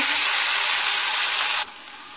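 Vegetables for Karaikudi kara kuzhambu sauté in a hot pan, giving a bright, dense sizzling hiss close by that drops sharply in intensity near the end, with no talking.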